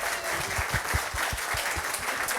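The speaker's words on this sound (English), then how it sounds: "Let's have a round of applause for Will." A crowd claps steadily and continuously, a dense, sustained round of applause with no voices over it.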